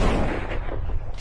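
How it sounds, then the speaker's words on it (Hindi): Gunshots in a Hindi-dubbed action movie, heavy booming blasts with a rumbling, echoing tail filling the short moment, loud and close without any talking. "गोली चलाओ।"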